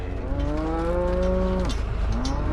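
A cow gives a long, loud, drawn-out moo close by during a cattle drive home for weaning calves, then starts a second call at the end, with no talk.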